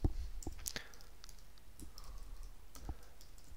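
Mouse clicks on a computer running rock model generator software, several sharp, close, dry clicks spread irregularly over faint background hiss, without talking.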